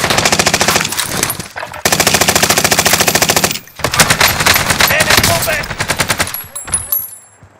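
Automatic gunfire in the video game Call of Duty Warzone, loud rapid machine-gun bursts in long sustained strings broken by brief gaps, with a voice shouting between volleys.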